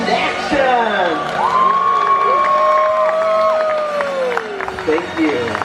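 Recorded crowd cheering and applause on a dark-ride attraction at a theme park, a dense burst of whoops and clapping mixed with music and sliding electronic tones, with voices speaking throughout.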